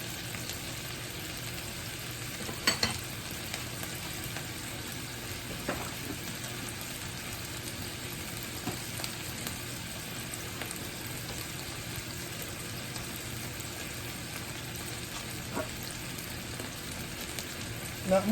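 Egg roll filling for southwest taco egg rolls sizzles steadily in a pan, a constant close hiss with a few faint scrapes of stirring, no voices.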